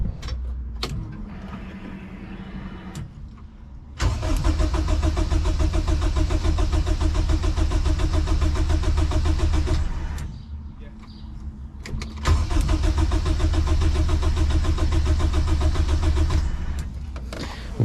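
A turbocharged K20 engine in a budget all-wheel-drive build cranks, then fires for its first start, running loud and steady with a rough, droning tone; it dips and falters briefly before catching again and settling into a strong idle.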